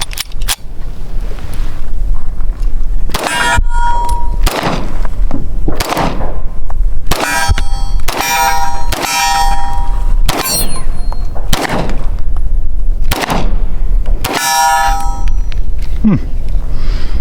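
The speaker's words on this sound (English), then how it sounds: "another gun I haven't shot before," Pistol gunshots on a firing line, about ten sharp, loud, close reports spaced irregularly roughly a second or two apart, each with a brief ringing tail, and no talk between them.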